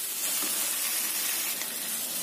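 Flat rice noodles (kwetiau) stir-fry with mustard greens in a hot wok, giving a dense, steady sizzle and crackle that stays loud and even from start to finish with no talking.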